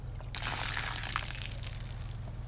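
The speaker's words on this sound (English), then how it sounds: "I didn't realize there was that much water up there." Rainwater that has pooled on a roof suddenly pours off in a steady, splashing rush, close and continuous over a low background hum.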